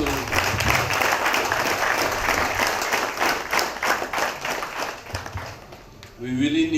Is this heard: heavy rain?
no